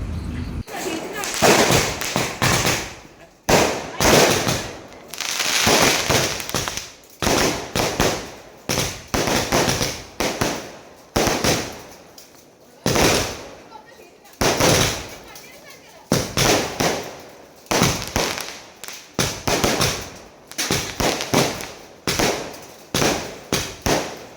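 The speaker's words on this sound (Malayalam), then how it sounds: "നമ്മളുടെ 2026 സ്പെഷ്യൽ വിഷു പടക്കമാണിത്" Loud Vishu festival firecrackers and fireworks burst again and again in rapid, uneven volleys of sharp bangs, close by, with brief lulls between clusters.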